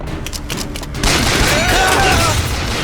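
Gunfire in the video game BioShock Infinite: a dense burst of shots and booming blasts breaks out about a second in and carries on loud and continuous, with voices shouting over the game noise.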